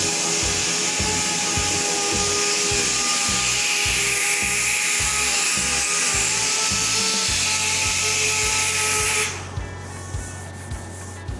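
Rhythmic back-and-forth sanding of a fiberglass car hood grinds steadily and loudly, with a machine drone underneath, then the sanding stops abruptly near the end.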